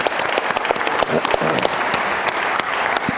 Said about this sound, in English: Big round of applause for Pico, everybody.